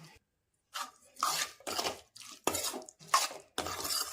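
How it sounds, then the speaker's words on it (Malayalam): Tamarind is stirred into a prawn pickle in a pan, producing a series of close scraping and clattering strokes of a spoon against the pan in uneven bursts separated by short pauses. "പുളി ഞാൻ അവിടെ ചേർത്ത് കൊടുക്കുന്നുണ്ട് നന്നായിട്ടൊന്ന് മിക്സ് ചെയ്യാം"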